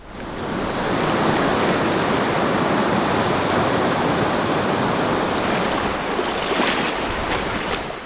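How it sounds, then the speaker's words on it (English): A river waterfall roars in a steady, loud, broadband rush that stays close and continuous for several seconds and fades a little at the end, with no voices. "We didn't know it was gonna be a waterfall."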